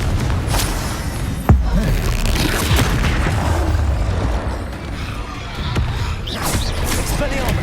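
Confringo fire-blast spells in the Hogwarts Legacy video game, deep booming explosions with a sharp impact among repeated bursts over a rumbling battle bed, loud and close.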